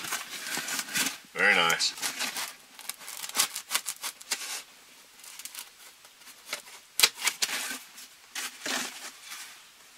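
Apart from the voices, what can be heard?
cutting a square out of blue foam material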